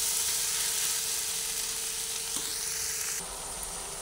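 Vegetables frying in a pan: a loud, continuous hiss and sizzle, close by, with brief stirring scrapes, and the sound dropping slightly near the end.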